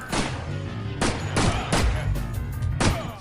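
Pistol gunshots in the video game You Are Empty, set in a Stalin-era subway tunnel: several sharp, loud shots fire in quick bursts over a steady low rumble, with no talk.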